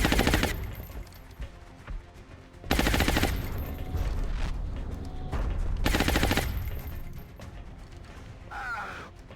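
Video game gunfire from a turn-based tactical strategy skirmish: loud, dense automatic bursts and heavy shots fill the clip, with mechanical clanks and a creaking sweep near the end, with no talking.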